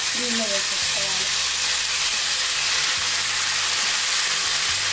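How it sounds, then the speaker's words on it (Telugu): Mashed moong dal with Malabar spinach tipped into a hot tempering of oil and curry leaves, giving a loud, steady sizzle and hiss that holds throughout with a few soft knocks. "తాలింపు కాలాక మనము మెతిపి పెట్టుకున్న ఈ పప్పు బత్తర కూరను కూడా దీన్ని వేసేసుకోవాలి."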